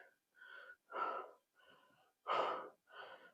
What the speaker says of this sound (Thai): หายใจไม่ทัน